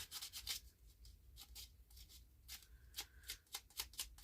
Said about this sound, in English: We'll take a little sandpaper to it.